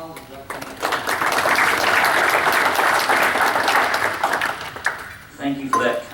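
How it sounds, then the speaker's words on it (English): Applause from a seminar audience welcoming a speaker at a talk on marketing and selling large commercial repaint contracts swells into several seconds of dense, steady clapping, then thins out as a voice starts under the last claps. "let's take an opportunity right now to give Brandon a hand of applause and welcome him"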